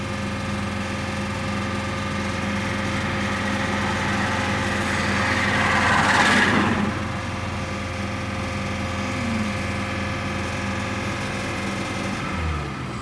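A 2005 Honda Civic Hybrid engine idles steadily, a continuous mid-level hum with a faint tonal whine, rising slightly in loudness around the middle before settling back.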